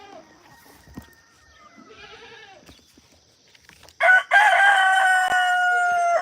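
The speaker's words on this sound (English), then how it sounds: "As you can hear the chickens" Chickens at a farmyard during chores make faint scattered calls, then a rooster crows loudly and close near the end, a long drawn-out call over the fowl.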